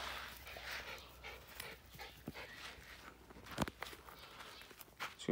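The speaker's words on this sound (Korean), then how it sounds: "강아지들이 따로 와서 놀고 있네요" Puppies play nearby on a potato farm, panting and scuffling with light footsteps and small whimpers, fairly quiet and close.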